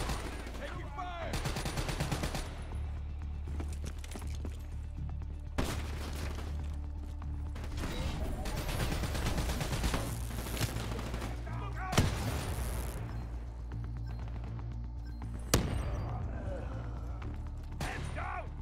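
Bursts of gunfire ring out in a Call of Duty Black Ops 3 campaign battle, with repeated shots and rapid automatic volleys, some sharp close cracks, under voices talking.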